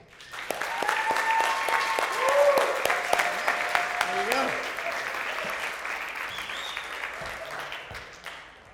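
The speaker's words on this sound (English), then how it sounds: "give a big round of applause to Pamela Hand" A crowd gives a warm round of applause for Pamela Hand, steady clapping from many people sustained throughout, with a brief spoken aside and some tones over it.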